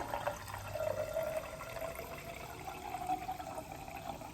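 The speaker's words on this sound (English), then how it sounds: "What you're hearing are bubbles escaping that are called carbon dioxide." A carbonated drink pours steadily into a glass, with a bubbly fizz and a rising gurgle as it fills, moderately close and uninterrupted by speech.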